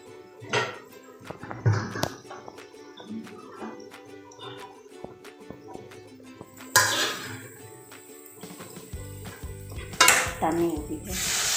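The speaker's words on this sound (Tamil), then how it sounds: "இப்போ இதுக்கு தண்ணி ஊற்றிக்கலாம்." Water poured into a pan of sautéed vegetables and broad beans with ginger-garlic paste, hissing and sizzling in bursts between clinks of pots and utensils, close and fairly loud.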